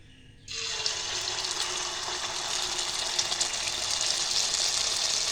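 Batter poured into hot oil in a pan for eggless mutta surkka, with a loud, steady sizzle that bursts in abruptly and keeps hissing to the end.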